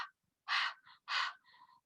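A voice imitates heavy, hard breathing after running fast, giving a short puff followed by two loud, breathy gasps, each trailing off, close and clear with nothing else behind it.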